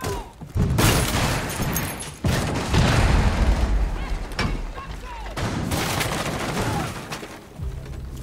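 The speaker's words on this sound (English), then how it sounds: "Throwing frag grenade." Frag grenade thrown and exploding in Rainbow Six Siege, heard as loud, booming blasts and heavy thuds among continuous gunfire-like bursts, with a sharp drop partway through and another burst after.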